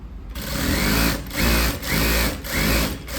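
Sewing machine stitching a lining onto blouse fabric, a loud, close whirring motor hum running in three steady bursts separated by brief pauses, no speech.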